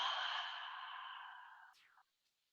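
A single long, breathy exhale during a slow yoga exercise, close and soft, tapering off gradually over about two seconds.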